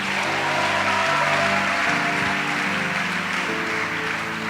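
Congregation applauding during a church service, a dense continuous wash of clapping at steady loudness throughout, with a sustained musical drone of held tones running underneath.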